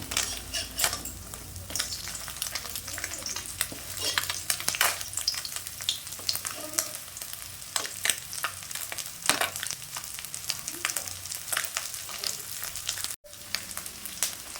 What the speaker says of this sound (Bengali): গাংমরোলা মাছগুলো ভাজা হয়ে গেছে